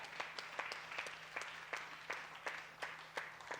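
Scattered clapping from a church congregation during a Tamil Sunday sermon: a fairly quiet, loose series of individual claps at an uneven pace, with a few hands at a time rather than a full ovation.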